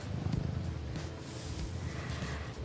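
A house cat purring close by, a steady low rumbling throb that continues without a break and with no talking over it.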